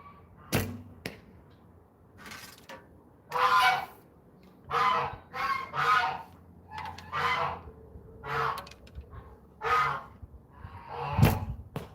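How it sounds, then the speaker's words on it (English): Geese in South Dakota honk as they come into a barn at dusk, a string of loud nasal honks in irregular bursts at close range, with a few sharp knocks between them. "Oh yeah, we got geese around here, that's for sure."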